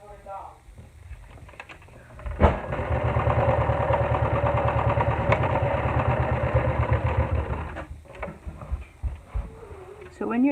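A sewing machine stitching elastic trim onto a gusset runs in one steady, close whirring burst of about five seconds, framed by quieter handling sounds before and after.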